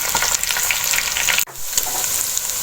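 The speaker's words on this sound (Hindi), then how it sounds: "अब इस लहसुन अदरक को मैं थोड़ी देर भून लूंगी।" Garlic ginger paste fries with beef in a hot pan, a steady close sizzle that drops out for a moment mid-way before resuming as loud as before.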